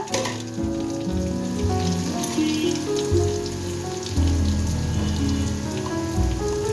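Whole cumin and ground spice paste fry in hot oil in a pan for a taro and pangas fish curry, giving a steady soft crackle and sizzle beneath louder background music.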